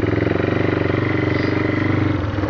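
A four-wheeler ATV engine runs close by in first gear with a steady, rapid, chugging putter and a slight clatter. The engine is moderately loud throughout.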